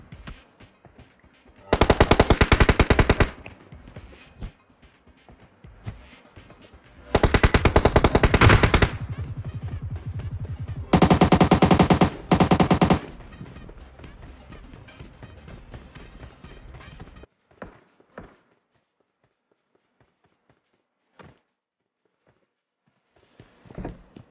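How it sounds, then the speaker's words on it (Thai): Automatic gunfire in the mobile battle royale game PUBG Mobile: three loud, sustained bursts of rapid machine-gun fire with quieter shots and movement between them, fading to near silence at the end. "มันยิงกันอยู่"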